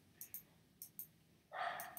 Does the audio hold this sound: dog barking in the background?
yes